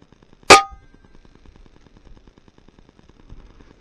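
A single sharp crack from an FX Impact air rifle shot at extreme long range outdoors, loud and close, followed by faint low background noise with no talking.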